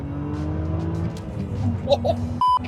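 A BMW engine revs quickly up through its range while the car is driven, a steady loud drone with rising tones under cabin noise and brief chatter from occupants.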